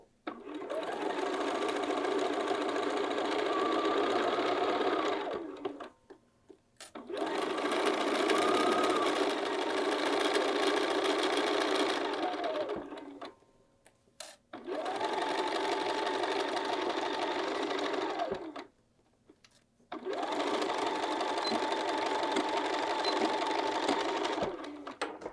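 A sewing machine stitches a fabric tote bag together in four long bursts of steady whirring, each several seconds long, separated by short pauses between seams.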